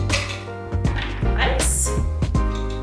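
Ice cubes drop into a dragon fruit margarita glass in several quick clinks and rattles, close and fairly loud over background kitchen noise.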